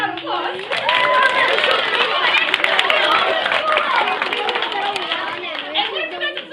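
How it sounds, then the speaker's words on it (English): Audience at a cube-themed event bursts into cheering and clapping mixed with lively crowd chatter and voices, loud and busy throughout. "Can we get a round of applause?"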